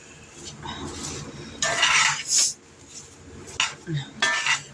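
A utensil scrapes and clinks against a skillet as a bourbon apple sauce mixture for pork steaks is stirred and mixed, in irregular bursts of scraping and metallic knocks, close by.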